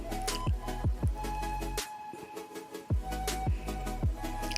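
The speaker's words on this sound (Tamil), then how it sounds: "மிக்சியில் அரைச்சது எல்லாத்தையும் அதில் போட்டுட்டு நல்லா மிக்ஸ் பண்ணி விடணும்." Ground pani puri ingredients from the mixer being mixed together in a bowl, making repeated close, wet squishing strokes with a few sharper taps, steady throughout with no talking.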